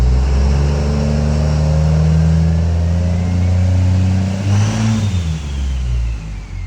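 A Cummins 6.7-litre diesel engine swapped into a vehicle revs hard and loud up close, its turbo spooling up quickly with a rising whistle over the deep, sustained engine roar before easing off.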